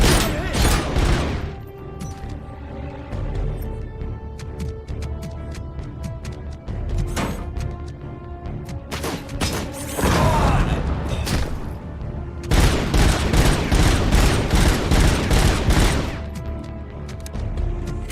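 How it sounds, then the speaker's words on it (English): Rapid bursts of suppressing gunfire in a video game, loud and dense with booming impacts, running in clustered volleys across the whole stretch with brief lulls between them. "He's suppressing fire on that side ahead."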